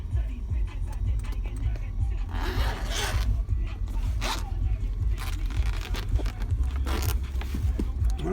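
A zipper on a case drawn open in several rasping pulls over a steady low rumble and handling noise, with no talking.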